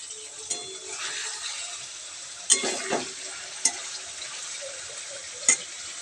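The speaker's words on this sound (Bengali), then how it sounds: "এখানে লাস্ট আইটেম রান্না করছি, সেটা হচ্ছে পনির ভাজছি" Paneer fries in a pan with a soft, steady sizzle, punctuated by a few sharp clinks and scrapes of a utensil stirring, fairly quiet and close with no talking.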